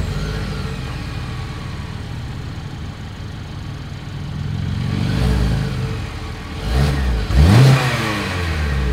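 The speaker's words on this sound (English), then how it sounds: "As always, here is that exhaust clip." Exhaust of a 2022 Kia Sportage SUV, starting with a low steady idle and rising into two short revs near the end, heard up close outdoors with no talking.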